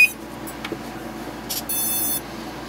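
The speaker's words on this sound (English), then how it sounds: "your board should light up and should make some beeping sounds" Short electronic beeps from a mini drone's flight controller board chirp over a low hum, ending in a longer steady tone, close by and fairly quiet.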